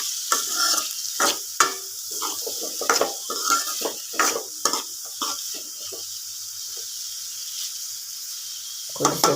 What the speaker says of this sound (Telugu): ఆనియన్స్ మాడకుండా చూసుకోవాలండి, మధ్య మధ్యలో ఇలా తిప్పుతూ ఉండాలి